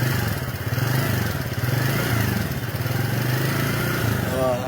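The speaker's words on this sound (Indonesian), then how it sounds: "Wah, itu dia bunyi knalpotnya nih." Exhaust of a TVS Ntorq 125 Race XP scooter, a steady, close, throaty engine drone held at an even idle-like pace with a slight rise and fall, continuous and loud throughout.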